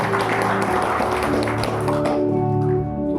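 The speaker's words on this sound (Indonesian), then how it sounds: "Tepuk tangan lebih banyak lagi buat Tuhan." A church congregation claps along during a Sunday worship service at GBI Lewi Citraland, dense steady hand-clapping blended with keyboard and bass music and sustained singing, loud and continuous throughout.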